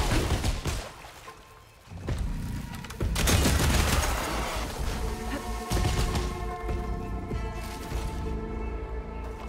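Rapid bursts of weapon fire from the bolt blaster in Horizon Forbidden West, dense and loud with crashing impacts, running almost continuously with no talk.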